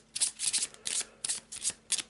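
A deck of board game cards is shuffled in quick riffling bursts, about five or six crisp rasping sweeps in a row, close and alone.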